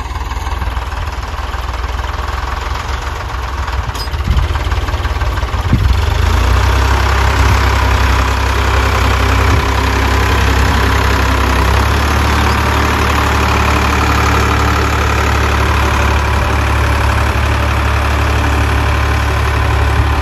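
A tractor engine idles loudly and steadily on a farm, a constant low rumble with slight knocking vibration, continuous throughout with no talk.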